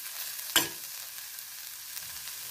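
Pav bhaji masala, coriander-cumin powder and salt roasting in a pan for methi amti, a faint steady sizzle with one sharp clatter of stirring near the start.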